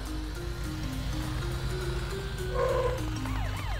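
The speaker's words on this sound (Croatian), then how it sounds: "Met, upotrijebi svjetla i sirenu da ga probudiš." A cartoon police car's siren wails in wavering, rising and falling tones, fairly soft, with a brighter swooping burst near the end.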